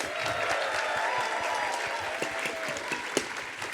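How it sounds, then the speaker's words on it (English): A convention crowd at a livestreamed stage event applauds the cosplayers gathered on stage, steady dense clapping with a few sharper individual claps standing out near the end. "We have to give a massive round of applause for all of our cosplayers up here."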